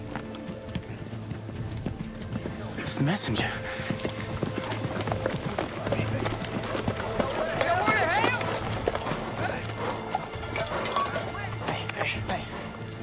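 Hooves clip-clop at a steady trot beneath several people talking, with a busy outdoor background.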